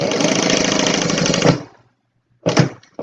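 A sewing machine stitches a small no-zipper fabric wallet, running in a fast, loud, steady buzz for about a second and a half, stopping, then starting again in a short burst.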